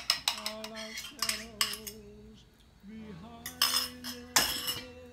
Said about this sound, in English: to this, I'm going to be adding 3 eggs. Beat them up a little bit before.